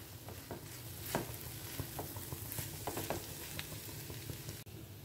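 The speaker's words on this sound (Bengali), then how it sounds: "তো এটাকে এবার আমাদের আরেকটু কষিয়ে নিতে হবে।" Onion, turmeric and spices for egg pepper fry stir-frying in a pan, a soft sizzle under uneven scraping and tapping of a spatula, close and fairly quiet, with no talking.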